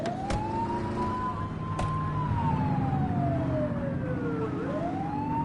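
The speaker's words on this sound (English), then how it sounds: "You're only meant to use the siren in emergencies." A police car siren in a video game wails in long, smooth rising and falling sweeps over a steady engine rumble and road noise, with a couple of sharp clicks along the way.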